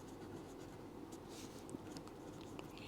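A pen scratches steadily on paper while a maths solution using the Pythagoras theorem is written out, a faint, continuous close-up scraping with small ticks.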